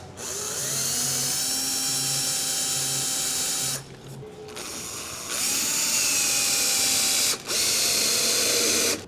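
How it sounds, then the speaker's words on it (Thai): A power drill bores holes in the roof of a Chery car to mount roof rails, whining loudly and steadily in several long bursts with brief pauses between them. "ไปเจาะราวหลังคา ราวยางเลยครับ ดูให้เข้าตำแหน่งกลางนะครับ เจาะเลยครับ"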